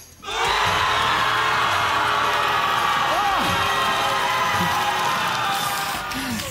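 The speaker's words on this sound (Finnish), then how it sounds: "Kaikki ne, jotka ovat sitä mieltä, että Lore on ehdottomasti tämän kisan voittaja, buuaa nyt!" A crowd at a punk contest lets out a sustained, loud, close mass roar of booing and shouting that holds steady for several seconds.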